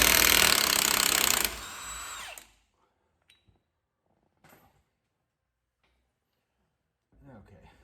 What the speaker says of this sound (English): If you have an impact, you can just go ahead and take it right off.